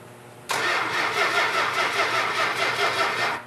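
A 400 Magnum engine with no spark cranks over continuously, giving a loud, steady mechanical churning that starts abruptly and never catches.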